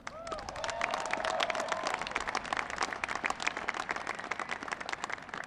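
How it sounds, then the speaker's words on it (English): A large graduation crowd at the U.S. Air Force Academy breaks into sustained applause, a steady dense patter of many hands, fairly distant and even, swelling slightly before holding level to the end. "Give them another round of applause"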